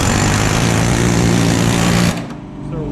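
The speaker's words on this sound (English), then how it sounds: "We got our air chisel here." An air chisel hammers on a 1969 Camaro's floor flange as it is cut away near the inner rocker: a loud, rapid, buzzing chatter that runs steadily for about two seconds, then stops abruptly.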